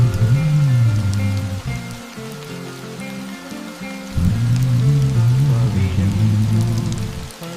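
Rain falls steadily in a forest, a soft constant patter beneath a louder melodic song playing over it.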